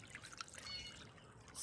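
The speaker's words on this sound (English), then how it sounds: "Just a simple bowl out of concrete and a bubbling rock." Soft continuous trickle and burble of a bubbling rock water feature in a concrete bowl in a backyard, faint and steady, with no talk.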